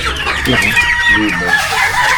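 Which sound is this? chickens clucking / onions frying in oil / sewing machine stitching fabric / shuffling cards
chickens clucking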